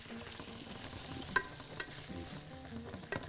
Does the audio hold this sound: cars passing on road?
no